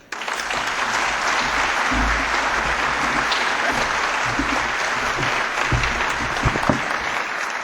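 A luncheon audience at a Seattle Rotary event applauds to welcome speaker Marion Blakey, a dense, loud, sustained burst of clapping filling the room for several seconds without pause.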